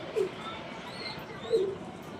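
Two soft, low coos from pet pigeons kept at home, one near the start and another about a second later, over a steady faint background hiss.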